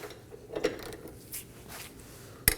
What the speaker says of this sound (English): one side I'll be supporting it with a ratchet and the other side removing it with a wrench